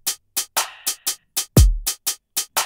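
Crisp hi-hat ticks in a steady, evenly spaced pattern, one open hit ringing a bit longer, joined briefly by a deep kick thump.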